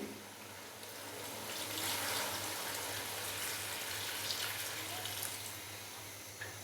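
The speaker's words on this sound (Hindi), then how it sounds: "और साथ में मैं इसके अंदर डालूंगा 2 गिलास पानी" Water from a glass pours steadily into a pot of Peshawari namkeen rosh for about six seconds, a continuous splashing gush with no speech.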